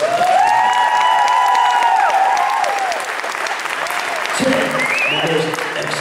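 Loud audience applause for tango dancers at a 1980s-themed stage show, a dense steady wash of clapping lasting throughout, with a voice speaking over it in the first half and again near the end.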